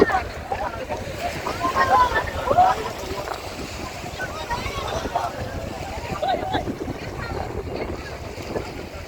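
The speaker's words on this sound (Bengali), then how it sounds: "উত্তাল সমুদ্র, আজকে আবহাওয়া একটু মেঘলা থাকার কারণে সমুদ্র উত্তাল।" Rough sea waves wash steadily at the Cox's Bazar fishery ghat under cloudy skies, with wind buffeting the microphone and a boat nearby. The surf is a dense, continuous roar. Someone talks over it.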